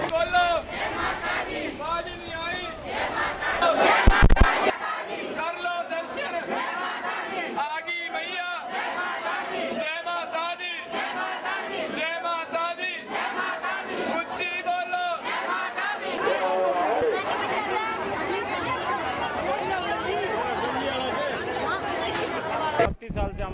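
A dense crowd of devotees fills a temple fair beside rows of stalls, with loud overlapping chatter and shouts throughout and a sharp clatter partway through.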